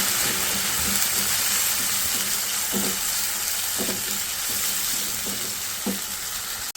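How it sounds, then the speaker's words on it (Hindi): Garlic ginger paste fries in hot oil in a pan for butter chicken, a steady bright sizzle with a few soft stirring scrapes and taps, close and constant throughout. "इसको ज़रा सा भून लूँगी पहले लहसुन अदरक के पेस्ट को।"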